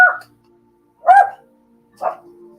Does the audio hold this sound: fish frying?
no